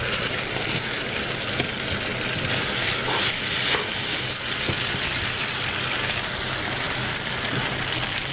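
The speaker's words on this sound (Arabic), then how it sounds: "نحرك شويه مزيان" Sauce sizzles and fries in a pan while being stirred, a dense continuous hiss with occasional scraping, close up and steady, no speech.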